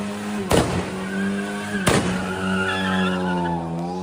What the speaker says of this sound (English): He's peeling out all over the street.